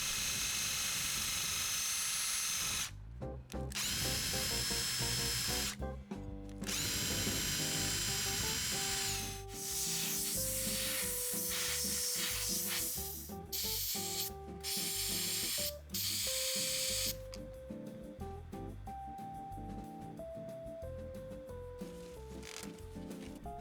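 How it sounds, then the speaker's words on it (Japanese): Rust being polished off the speaker terminals of a 1976 Yamaha CA-1000III amplifier, then special oil sprayed on: loud hissing spray bursts and scratchy scrubbing alternate with pauses, under steady background music, no talking. "端子の錆を磨いて専用オイルで仕上げます。"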